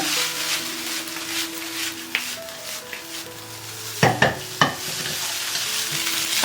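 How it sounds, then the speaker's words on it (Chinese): Cantonese rice noodles stir-fried in a wok after soy sauce and pepper are added, with a steady sizzle and a few sharp clanks of the spatula tossing them near the end. "快速翻炒均匀"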